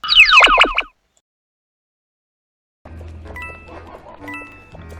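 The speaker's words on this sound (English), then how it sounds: "Did you hear that dog just then?" A dog in a video game swamp terrain gives a short burst of yelping barks, loud and close, followed by a pause of silence and then soft tinkling, chiming game music.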